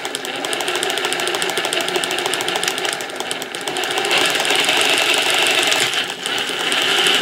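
An Axial RR10 RC crawler with its drive shaft set at a steep angle binds as it turns, giving a fast, steady mechanical clatter and buzzing whir that stays close and loud, rising slightly in the second half.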